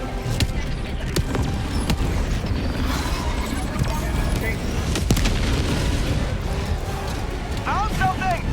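Orbital barrage shells slam down in Helldivers 2, a dense run of deep booming explosions and rumbling impacts over ongoing battle noise, with game voices calling out over the chaos.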